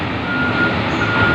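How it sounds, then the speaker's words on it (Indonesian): Steady reversing beeper of a dump truck at a ship dock during vessel loading and unloading, a continuous high tone over loud engine rumble, close and without talk. "dump truck."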